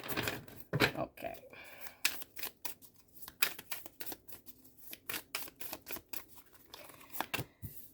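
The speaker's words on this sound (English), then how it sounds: "I'm giving it a really good shuffle" A fairly new deck of tarot cards is riffled and shuffled in quick, crisp bursts of papery flicks and snaps, close up, with a few irregular pauses.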